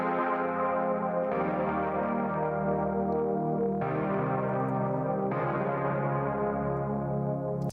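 A synthesizer patch modelled on a Roland Jupiter 8, distorted and crusty, plays sustained chords that change four times, a thick buzzing harmonic tone held steadily throughout with no other sounds.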